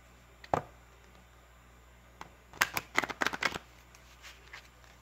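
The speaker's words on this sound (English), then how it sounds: "One more shuffle." Tarot cards shuffled by hand in a quiet room: one sharp riffle near the start, then a cluster of quick crisp riffles and snaps, close and fairly loud, with no talking.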